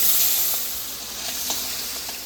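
Steady hot-oil sizzle of stinging catfish frying, a dense hiss with a few faint pops and crackles, close by and fairly loud throughout.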